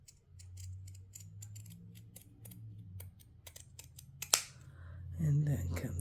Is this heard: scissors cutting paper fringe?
yes